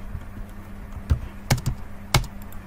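A computer keyboard is tapped in a quiet room: a few soft keystrokes, then three sharper, louder key presses spaced apart, like the enter key hit twice and again, close by with no talking.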